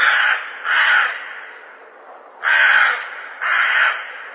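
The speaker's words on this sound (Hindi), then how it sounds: "कौओं की भयानक आवाज" Crows cawing as a horror story sound effect: four loud, harsh, drawn-out caws, close and alone, with short pauses between them.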